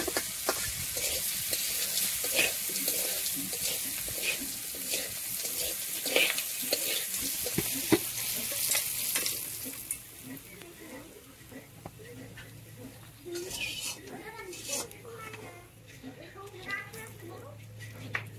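Cooking oil heats in a pan in a village kitchen before bay leaves go in for a shrimp dish: a continuous close sizzle with stirring and clatter, with voices talking over it and the frying easing toward the end.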